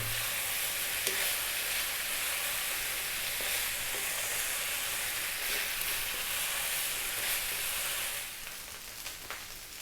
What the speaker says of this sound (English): That is your rice frying.